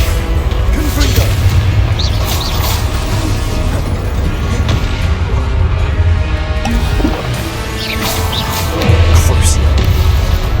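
Confringo spell explosions in Hogwarts Legacy combat, with heavy booms and crashing impacts over a constant rumbling din; a voice speaks now and then through the fight.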